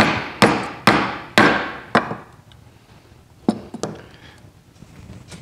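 A hammer taps a part while dual carburetors are fitted to a 1979 Super VW Beetle, with about five loud, ringing metallic strikes followed by a cluster of lighter taps, close up and without speech.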